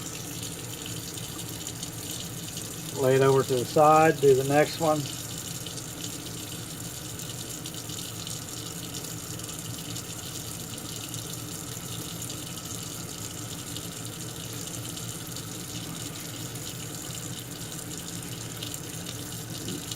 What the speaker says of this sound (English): Once I'm done cleaning the part, I just rinse it off in cold water.